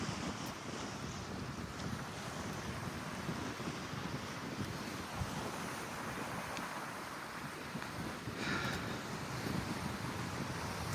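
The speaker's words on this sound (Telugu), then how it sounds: "చూడండి సముద్రము, అలలు" Sea waves and strong wind on the Kuwait waterfront near the Kuwait Towers, a steady, loud wash of surf mixed with blustery wind buffeting the microphone throughout, with no talk.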